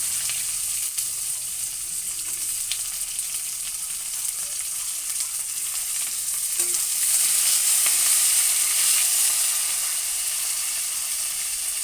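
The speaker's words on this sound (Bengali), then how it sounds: "এবার গাজরগুলো একটু ভেজে নেব হালকা। দেখো ক্যাপসিকামগুলো দিয়ে দিলাম।" Carrots and capsicum frying lightly in a pan give a steady, close sizzle with soft crackles and occasional stirring scrapes, swelling slightly louder toward the end, with no talking.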